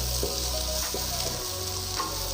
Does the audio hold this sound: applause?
no